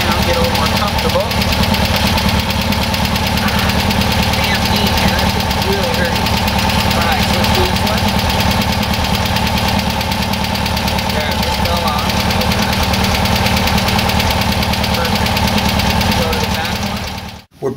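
Air-cooled Porsche 912 engine with dual carburetors idling steadily and close by in a garage, a continuous rumbling drone with a light rhythmic knock that holds for the whole stretch before cutting off abruptly at the end.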